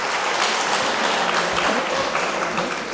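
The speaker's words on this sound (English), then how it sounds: "Please join me with a big round of applause" Applause at a college science and technology conference, a dense, even wash of clapping from a large audience, loud and steady for the whole stretch.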